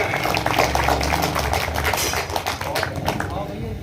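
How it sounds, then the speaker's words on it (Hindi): A small village crowd of roughly fifty to sixty people gives loud, sustained applause welcoming poet Vikas Arya Swapn to the stage, a dense steady patter of clapping under a speaking voice that tapers off near the end. "आज ये स्वप्न की आपके जोरदार तालियों से स्वागत है।"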